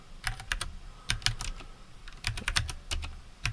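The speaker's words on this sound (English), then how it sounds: "I'm using a split keyboard" Fast typing on a split mechanical keyboard with brown switches, clustered bursts of crisp clicky keystrokes with brief pauses, close and fairly quiet, no talking.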